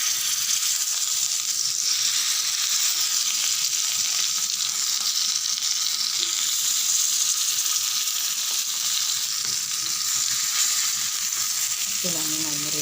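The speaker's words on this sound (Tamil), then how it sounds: "இங்கே பாருங்கள், ரெடியாக எடுத்து மீன் பொரிச்சிடலாம்." Fish frying in hot oil gives a steady, loud, dense sizzle that runs without a break, close up, with a brief spatter of stirring near the end.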